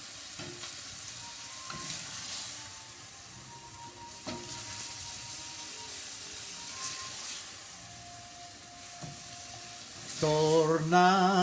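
Meat sauce for pappardelle bubbles and sizzles in a pan, a steady close frying hiss with occasional stirring scrapes throughout, and a voice breaks in near the end.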